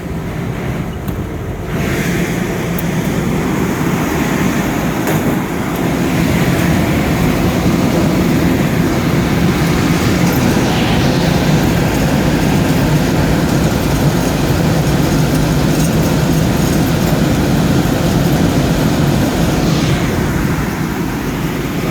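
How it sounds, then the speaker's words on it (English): A Cambridge direct-fired gas burner roars steadily after lighting, a loud broad rushing noise that holds constant throughout with a faint fan whine beneath it. "There goes the burner."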